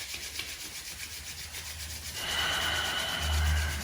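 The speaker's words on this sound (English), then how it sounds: "So together, let's rub the hands." Two palms rubbing briskly against each other during a guided acupressure meditation, a steady dry friction that swells louder and brighter in the second half, close and with no talking.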